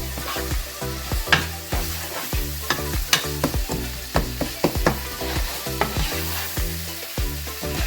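Taco filling being mixed in a hot pan: a continuous sizzle under a run of close, rhythmic scraping and clinking stir strokes, with no talking.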